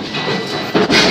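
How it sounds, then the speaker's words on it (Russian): Inside a moving electric suburban commuter train, a steady broadband rumble and rattle runs throughout, swelling briefly louder near the end as the carriage jolts; no one speaks. "Итак, у меня идет путешествие в поезде."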